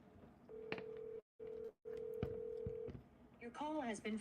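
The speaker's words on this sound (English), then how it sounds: "I'm calling one more time." A phone call being dialed: a steady dial tone in three bursts broken by short gaps, with keypad tones over it, then a voice speaks near the end.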